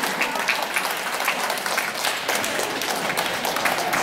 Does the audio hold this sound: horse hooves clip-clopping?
no